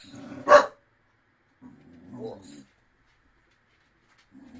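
A pet dog indoors gives one sharp bark near the start, and a person speaks quietly afterward.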